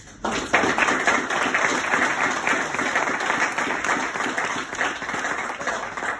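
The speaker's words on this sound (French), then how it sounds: "Merci de l'applaudir très très fort" Audience applauding David Delarive at a French-language talk on cryptocurrencies in Vaud, a loud, sustained round of clapping that starts abruptly and stays full and steady, with individual claps standing out.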